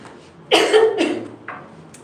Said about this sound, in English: sorry, I still have this cough. I cannot help it